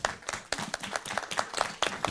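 A small live audience claps for the show team at a debate event, scattered hand claps arriving in uneven bursts for a couple of seconds, fairly close and moderately loud.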